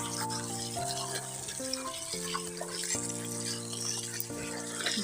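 Water splashes and pours steadily over a batch of freshly picked flowers being washed, a soft continuous wash heard beneath sustained tonal music.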